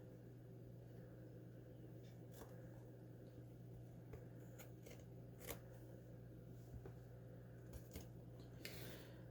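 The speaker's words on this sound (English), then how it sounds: "I'll trim that up at the bottom with scissors." Scissors snip through craft material in a quiet room, a string of faint, sharp cuts scattered irregularly over a steady low background hum.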